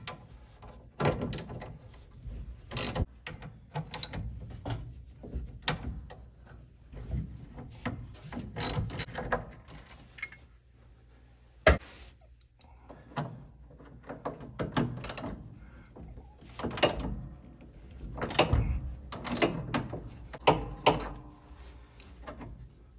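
The emergency brake cable of a 1963 Chevrolet C10 is pulled out, with irregular close metallic scrapes, clunks and ratcheting rattles that come in uneven bursts across the clip and carry no voices.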